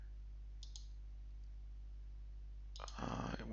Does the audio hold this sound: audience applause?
no